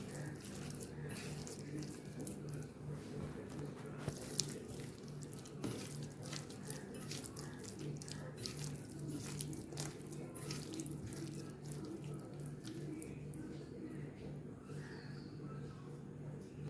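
Fish roe mashed by hand in a bowl of water with salt and turmeric, giving soft, close, steady sloshing and squelching throughout, with faint talk in the background.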